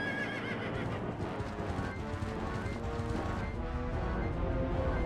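Horse hooves clop steadily while a horse neighs and whinnies over layered game music in The Legend of Zelda: Twilight Princess, loud and continuous throughout.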